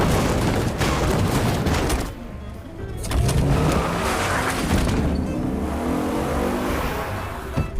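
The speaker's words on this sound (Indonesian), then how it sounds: "Tentunya Jung Seok heran, gadis tersebut membawa mobil dengan cepat hingga Jung Seok pun terhantam pintu mobil kemudian pingsan." A car in a zombie film scene is driven fast, with loud engine roar and rushing motion, a brief lull, then sustained revving and tire noise close by, with no speech.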